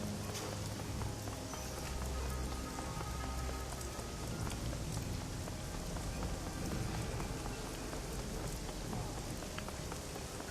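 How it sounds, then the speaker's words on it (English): Steady, dense rain falls without a break in the video game Shadowrun Hong Kong, a continuous hiss of pattering drops filling the scene with no speech. "the wind and the rain pelting Heoi"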